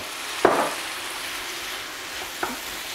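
Onions and bell peppers fry in a pan with chicken, a continuous hissing sizzle broken by two scraping stirs of a utensil, up close and without speech.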